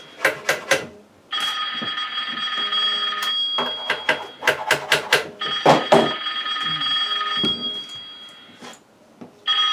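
A telephone rings indoors in sustained, warbling electronic tones, broken by sharp clicks and knocks nearby, with no clear talking.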